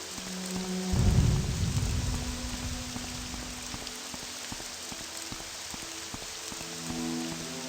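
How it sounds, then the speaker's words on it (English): Steady rain patters across the world of the video game Morrowind, with a rolling thunderclap near the start that swells and fades under the downpour, while soft musical tones play in the background. "Just the rain falling and the music."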